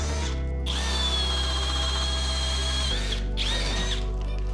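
A drill bit bores through wood during bathroom plumbing work on a Navy barge, a steady high whining motor under load for about three seconds, a brief pause, then a short second burst, loud and close with no talking.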